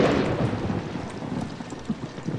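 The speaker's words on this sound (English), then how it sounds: "Ha, fucking thunder." Thunder rumbling through a video game level of the horror title Outlast, a loud, continuous low roar with broadband rain-like noise and a few swelling peaks, heard without any talk.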